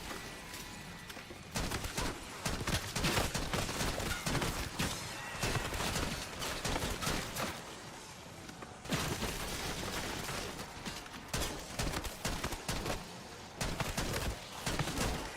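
Rapid automatic shotgun blasts from a Black Ops 6 match, loud and dense bursts of gunfire running nearly continuously with brief pauses, mixed with game effects.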